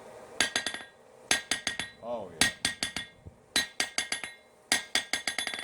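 A Japanese hammer in a rebound test: sharp metallic strikes in quick bursts of four or five bouncing blows each, repeated several times, loud and close, with a brief voice between bursts.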